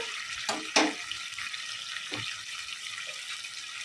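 Water is poured into a pan of chicken tikka masala curry, a hissing, bubbling sizzle with a couple of splashy bursts early on, settling into a steady quieter simmer.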